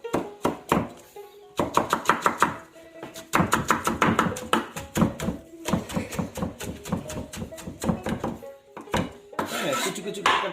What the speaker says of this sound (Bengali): কুচি কুচি করে কাটতেছি